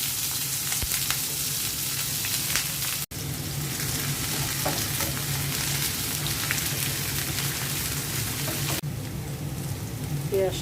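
Onions fry in oil in a frying pan with a loud, continuous crackling sizzle close by, with occasional stirring scrapes and a short break partway through.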